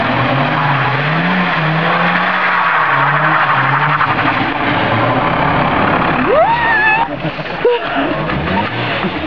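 A car doing doughnuts, its engine droning loud and steady under a long tyre skid and squeal, a rising screech near the end, with people talking over it.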